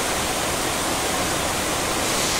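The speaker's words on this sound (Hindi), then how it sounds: "ये देखिए कितना तेज़ बारिश की, एकदम शेड के अंदर पानी आ जा रहा है।" Heavy rain pours inside a railway diesel locomotive shed, a loud, dense and continuous roar of water with no breaks.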